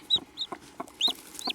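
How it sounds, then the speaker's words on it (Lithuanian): A newly hatching chick, half out of its egg, gives a run of high, thin peeps in short bursts, four or five chirps close by with soft rustling between them. "Va, viščiukas, matau."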